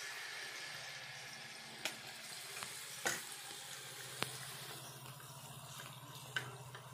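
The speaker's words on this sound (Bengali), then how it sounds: "তেল গরম হয়ে গেছে, এবার আমি ব্যাটারটা দিয়ে দিই।" Mango poa pitha batter frying in hot oil, a steady soft sizzle with a few sharp pops and clinks, no voices.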